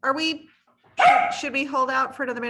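A dog barks repeatedly at home during an online meeting, several sharp barks close to the microphone, with a person talking between and over them.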